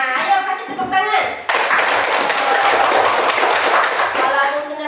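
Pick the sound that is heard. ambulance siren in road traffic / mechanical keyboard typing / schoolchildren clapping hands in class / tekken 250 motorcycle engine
schoolchildren clapping hands in class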